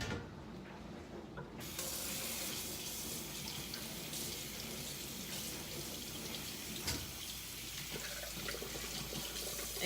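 A kitchen tap runs steadily while raw meat is rinsed under it. The water gushes close and loud after a quieter opening second, with the splashing shifting slightly as the meat is handled.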